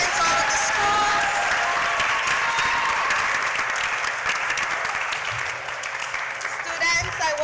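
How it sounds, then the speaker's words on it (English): Dense, sustained applause from an audience at a primary school spelling bee competition, a steady loud wash of many hands clapping, with faint voices mixed in beneath it. "give a rounding round of applause"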